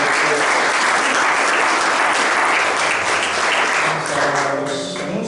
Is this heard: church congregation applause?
yes